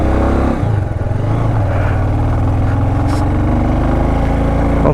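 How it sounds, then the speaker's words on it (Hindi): A motorcycle engine runs loud and close right after being started on a cold mountain morning, settling into a steady rumbling idle throughout. "हम बाइक को 20-30 सेकंड के लिए स्टार्ट कर लिया है।"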